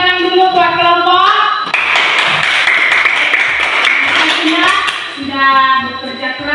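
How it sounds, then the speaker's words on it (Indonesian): A class of schoolchildren claps for a student group, a loud burst of rapid, dense hand claps between stretches of someone speaking. "Tepuk tangan dulu buat kelompok"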